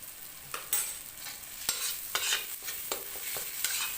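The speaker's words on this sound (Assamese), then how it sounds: "আৰু এতিয়া এইখিনি মই কেঁচা ভাৱটো যোৱালৈ ভাজি থাকিম।" Mustard paste with salt fries in a pan under a soft, steady sizzle, broken by about eight sharp spatula scrapes at uneven intervals, close and fairly quiet, with no voices.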